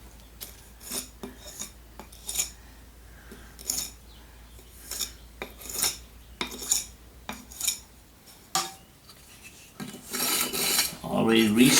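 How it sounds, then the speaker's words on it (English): A steel mason's trowel rasps and scrapes across fresh mortar joints on a four-inch return brick corner, smoothing them and cutting off burrs in repeated short strokes, close and fairly loud, with no one talking. "take your trowel, just smooth, cut the little burrs off of your joints"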